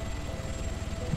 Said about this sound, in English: I'm gonna land the heli.